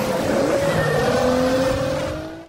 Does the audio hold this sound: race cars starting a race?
yes